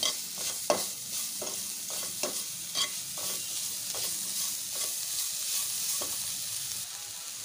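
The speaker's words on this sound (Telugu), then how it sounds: "ఇలా తోటకూర ఆయిల్లో మంచిగా వేగిన తర్వాత" Amaranth leaves fry in oil with turmeric and salt in a pan, a soft continuous sizzle broken by regular scraping strokes of a spoon stirring, heard up close with no talking.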